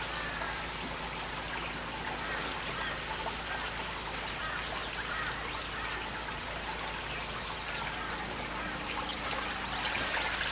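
Water flows back into a backyard tank growing baby carrots, a steady faint trickle and splash that runs without a break, with no talking.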